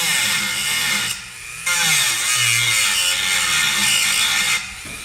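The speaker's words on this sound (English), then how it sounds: "I don't have as much precision with the Dremel." A Dremel rotary tool grinds the bulk off a handmade jaw harp. Its loud, whining buzz shifts in pitch as the load changes and drops out briefly in a short pause before resuming.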